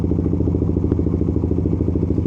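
Suzuki GSX 150 motorcycle engine idling in first gear with the clutch at its biting point, a loud, close, steady low putter with even rapid pulses and no voices.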